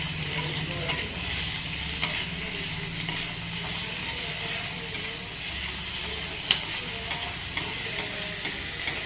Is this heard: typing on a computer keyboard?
no